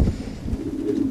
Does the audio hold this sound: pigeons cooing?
yes